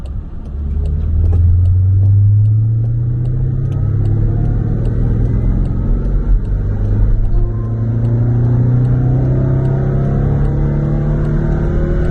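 A Land Rover Defender with an ECU tune and its engine cover off runs loudly and continuously up close, its engine note climbing and swelling as it revs for about twelve seconds.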